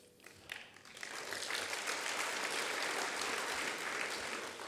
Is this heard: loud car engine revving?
no